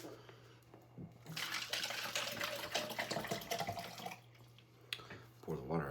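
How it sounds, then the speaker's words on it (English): Water poured out of a cup splashes and trickles steadily for a few seconds, close and moderately loud, with a faint hum underneath and a brief clatter at the end. "Pour the water out."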